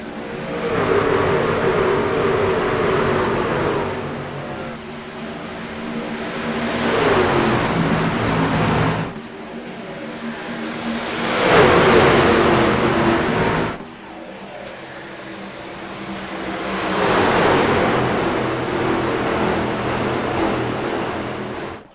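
Race trucks in the iRacing video game roar away at a restart at the Indianapolis Brickyard, engines rising and falling in long loud waves of acceleration and gear changes over about twenty seconds, with no speech.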